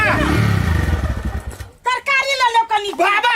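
A motorcycle engine runs loudly up close for under two seconds, a dense low rumble, then cuts off as voices take over and talk through the rest.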